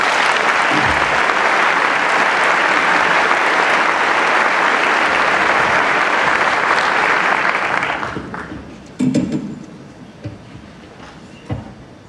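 An audience welcomes speaker Patrick Foose at a special education event with loud, dense, sustained applause that fades out toward the end, leaving a few scattered claps and soft shuffling noises.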